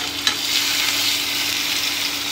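Fish frying in garlic-infused oil gives a steady, close hiss, with one small sharp tick near the start and no voices.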